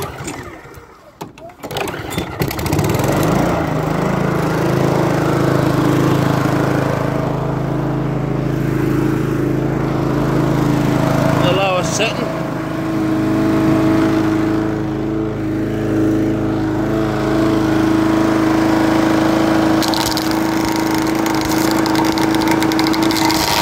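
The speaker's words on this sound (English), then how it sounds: "Now I'm going to demonstrate this chipper." Masport Genius lawn mower with an alloy deck running its chipper, a steady loud engine drone that starts after a brief rough burst and holds throughout with minor fluctuations.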